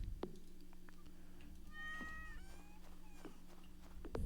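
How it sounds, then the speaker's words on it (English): A cat meows twice in Stardew Valley, the short in-game cries rising and falling over a steady hum of background game music, with faint tapping around them. "Oh, that's the cat."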